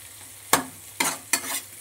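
Onion, tomato, garlic, green chillies and dried chillies fry in a pan for okra mash, with three sharp sizzling bursts as the mixture is stirred, each fading quickly over a low background.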